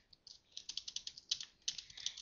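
Keys clatter on a computer keyboard in a quick, close run of crisp clicks, pausing briefly mid-way before a few more keystrokes, with no speech.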